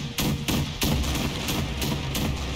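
Franky Cannon attack in the video game One Piece Odyssey: a rapid run of loud, sharp cannon-like blasts fires in quick succession, close and punchy over a busy battle din.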